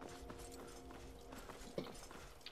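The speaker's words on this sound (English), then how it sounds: "I like the horse, it makes it quicker" Horse hooves clip-clopping in Skyrim, a quiet, fairly quick rhythmic clatter of steps across snowy ground with one sharper thud near the end.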